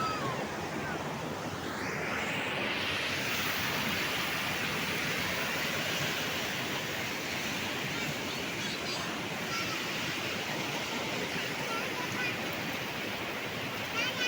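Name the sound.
flooded Malan river flowing bank to bank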